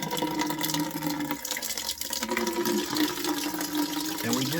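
Water drains steadily out of an opened sewer main line cleanout at a home, a continuous near gushing and splashing that runs without a break, with no talk over it.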